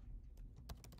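Keyboard typing on a computer as words are entered into a table, a short run of quiet, close key clicks with no talk.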